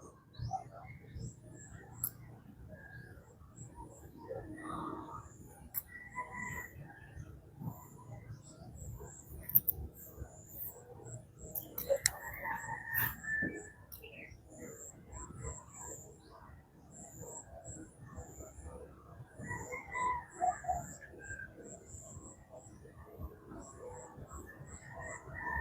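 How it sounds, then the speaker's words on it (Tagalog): Small birds chirp at intervals in the early morning, faint and scattered over a steady low background rumble, with occasional brief louder calls and a few distant sounds. "Mga birds guys, oh."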